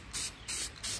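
Rattle-can lacquer sprayed onto a banjo in three short hissing bursts, each lasting about a fifth of a second, close and fairly loud with brief quiet gaps between them.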